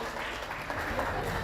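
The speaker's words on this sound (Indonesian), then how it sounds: "Boleh kita berikan tepuk tangan yang meriah untuk acara kita pada hari ini." Audience at an alumni association handover ceremony applauding, steady moderate clapping with a low background rumble throughout the short burst.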